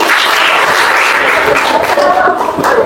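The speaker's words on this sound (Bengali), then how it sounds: "আপুর জন্য জোরে একটা হাততালি" A room full of people, likely a class of children, claps loudly for a woman in a dense, steady burst of applause that lasts throughout.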